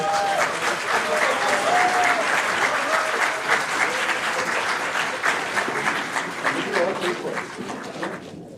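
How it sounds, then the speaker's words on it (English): A large audience applauds the author at a book launch, with dense, sustained clapping that fills the room and fades near the end, and voices briefly mixed in early on. "May we please have a big round of applause for him."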